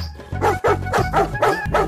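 Dog barks loudly in a rapid run of about six close yips and bow-wows, alone and near, in a Tamil TV serial scene.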